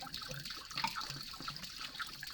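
Sanitizer water is poured out of a container while making mead, a faint, steady splashing trickle with no talk.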